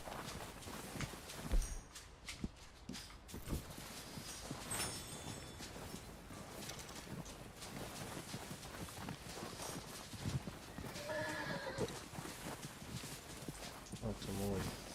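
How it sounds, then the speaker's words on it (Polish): Hooves of a horse in the video game Red Dead Redemption 2 clip-clop steadily at a walking pace, soft and mid-distance, while someone talks in Polish over them throughout. "że tego konia już słychać."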